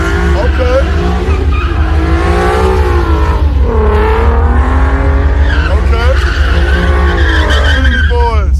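An Infiniti doing a burnout at a legal pit event screeches loudly and continuously, its tyres squealing in wavering pitch beneath constant engine roar, while voices and shouting carry over it throughout.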